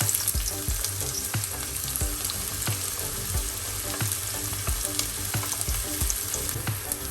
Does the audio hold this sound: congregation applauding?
no